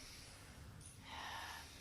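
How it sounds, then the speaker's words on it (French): A short, quiet nasal sniff drawn in through the nose during an intermediate Pilates exercise, a soft breathy rush lasting under a second against a low background hum, no talking. "renifle pour bien activer le périnée"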